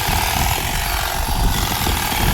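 An AL-KO HT 1845 cordless 18 V hedge trimmer cutting grass gives a loud, steady buzzing drone that runs without a break, close by and with no voices.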